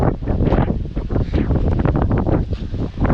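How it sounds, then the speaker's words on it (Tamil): Strong storm-like wind gusts batter the microphone on a mountain path, a loud continuous roaring rush with surging bursts and no voices. "மொத்த காற்றும் நம்மளை கீழே தள்ளுற அளவுக்கு புயல் மாதிரி காத்தடிச்சிட்டு இருக்குது"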